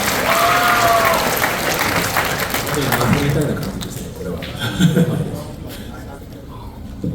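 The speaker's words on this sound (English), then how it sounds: "Let's get another round of applause for our amazing" An audience at an Anime Expo 2025 panel claps steadily, the applause fading over several seconds as a voice talks over it.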